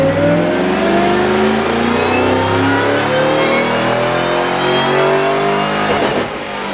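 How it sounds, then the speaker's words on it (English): A 2011 Ford GT500 with a cold air intake roars through a baseline dyno pull, its engine pitch climbing steadily under full throttle, loud and close, then easing off at the end. "Let's go ahead and see what this 2011 GT500 puts out as a baseline dyno."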